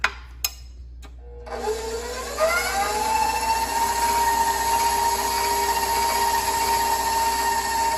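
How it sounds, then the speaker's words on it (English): An electric mixer beats batter in a bowl, starting after a couple of sharp knocks and then rising to a loud, steady whir that holds near and constant. "we're gonna beat this for about another minute and a half"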